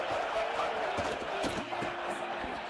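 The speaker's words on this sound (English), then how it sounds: "Listen to the crowd energy here in the early going." A college football stadium crowd keeps up a dense, steady roar early in the game, with scattered shouts rising above the constant wash of noise.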